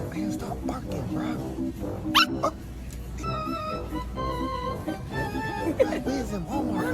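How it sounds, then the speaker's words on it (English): In a pet store, a dog barks and whimpers in short, high-pitched yips and whines at close range, scattered over several seconds with people talking around it. "Stop barking,"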